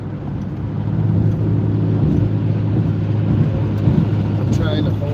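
A car drives along at around 75 with a steady, loud low rumble of road and engine noise that stays even throughout, with no break.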